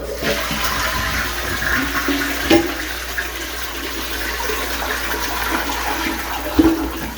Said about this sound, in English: Give it a nice little flush here